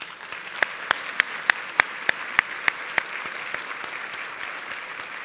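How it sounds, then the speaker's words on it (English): Audience applause at a women's hospice fundraising luncheon, a steady wash of clapping hands with sharp individual claps standing out, moderately loud and continuous without any talking. "Let's all give them a round of applause."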